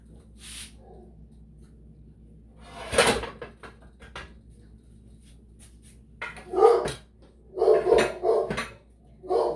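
Dogs bark in short bursts at a UPS delivery truck outside, a sharp yelp early then a cluster of loud barks near the end, heard indoors over a quiet kitchen room tone.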